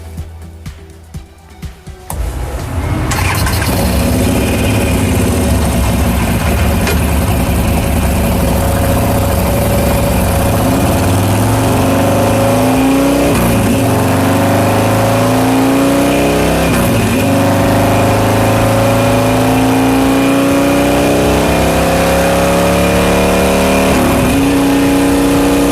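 A motorcycle engine on a dyno for fuel mapping starts after a short crank, then runs loud and close, holding a steady idle and climbing through repeated rising revs.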